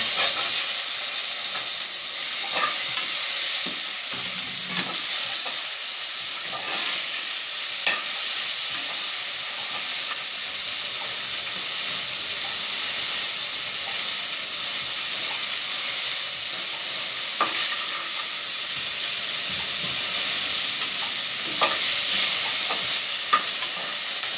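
Country chicken roasting for biryani sizzles steadily in a pan while being stirred, with soft scrapes and occasional clinks over a continuous close hiss lasting the whole stretch.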